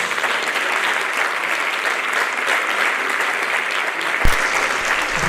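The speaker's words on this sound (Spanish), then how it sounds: "Fortes aplausos para todos eles." An audience at a Galician mountaineering federation gala claps loudly and steadily for municipal representatives from the hiking league, with a single sharp thump near the end.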